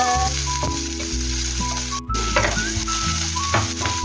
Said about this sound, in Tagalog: Kapag mainit ng ating langis, ilagay natin ang ating sibuyas. Halu-haluin hanggang lumabas ang aroma.